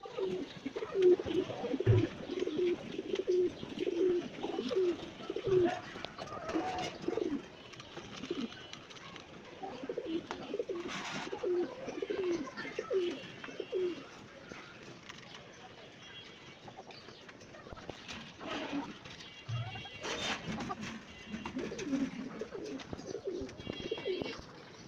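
Pigeons coo steadily in a backyard where pigeons and chickens are kept, giving a continuous layered cooing at close range, with brief rustles and flutters.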